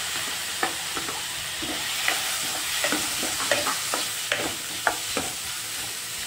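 Onions and ginger garlic paste fry in a pan with a constant close sizzle, broken by regular scraping clicks of a spatula stirring, and no voices.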